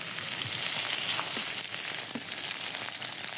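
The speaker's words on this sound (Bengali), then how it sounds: "মাংস রান্না করার মধ্যে পেঁয়াজ কুচি দিয়ে দিচ্ছি" Chopped onion fries in oil alongside meat in a pot, a loud, close, steady crackling sizzle with a few faint stirring knocks.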